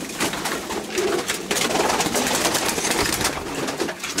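Racing pigeons in a loft, a steady mix of cooing and fluttering bird noise with general rustle, close and continuous.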